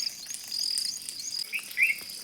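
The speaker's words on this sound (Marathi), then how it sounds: "चिमण्यांचा चिवचिवाट" Sparrows chirping in high, thin twitters over a steady insect-like trill, fairly faint and outdoors, early on a rainy morning.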